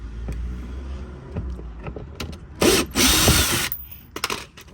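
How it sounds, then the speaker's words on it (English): A screw gun whirs in a few short bursts, each a loud, close, high buzzing spin, while undoing bolts in the footwell of a high-mileage Vauxhall Astra, with clicks and small metallic knocks in between. "So just got the screw gun out."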